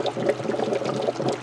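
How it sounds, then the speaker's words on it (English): Water drains out of a reservoir and pours back into the bottom of a 130-volt hydrogen generator running on 120-volt house power. The splashing flow is close and continuous, with no voices. "is draining out of the reservoir and going back into the bottom of the generator"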